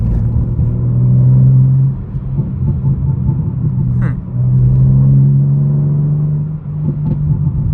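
A 900 BHP BMW M4 with traction control off, its engine droning and rising in two long surges on a light quarter-throttle pull at night in traffic, a steady close rumble from inside the cabin.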